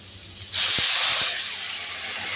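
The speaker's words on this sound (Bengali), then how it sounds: "এবার আমি দিয়ে দেবো জল" Water poured into a hot pan of frying bitter gourd erupts in a loud, sudden hiss of steam that stays strong and slowly eases off, with a couple of soft clunks early on.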